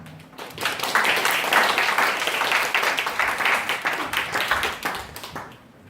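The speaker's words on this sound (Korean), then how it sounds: "자, 우리 나올 때 더 큰 박수로 맞이합시다." Sustained applause from a church audience welcoming a candidate at a youth-group election speech event, steady dense clapping lasting several seconds before fading out at the end.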